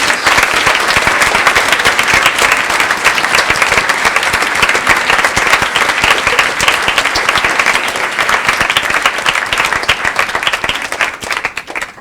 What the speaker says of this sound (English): can you please give a big thank you round of applause to Mr. Richards